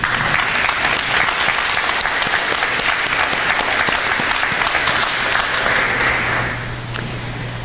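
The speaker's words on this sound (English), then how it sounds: "Let's give these students a huge round of applause for all of their accomplishments." Audience at a school senior signing day applauding students, strong steady clapping that tapers off near the end, leaving a low hum and scattered claps.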